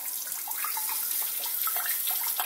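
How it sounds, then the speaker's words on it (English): Warm water runs steadily from a Hydro Cleanse RDU201 Hygiene Bidet after installation, a close, continuous splashing hiss with no talk over it. "Now we've got some warm water."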